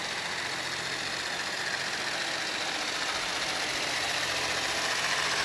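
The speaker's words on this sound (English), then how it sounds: "Comes another tractor, an older tractor that is celebrating this season." An older tractor engine rumbles past in a fall festival parade, a steady, fairly loud mid-pitched running drone with a knocking texture, unbroken by speech.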